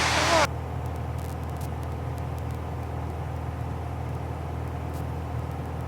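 A Cessna 172 piston engine drones steadily during a climb in turbulence, a loud constant cabin roar that follows a brief louder burst at the start.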